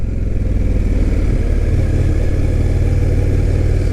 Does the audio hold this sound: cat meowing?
no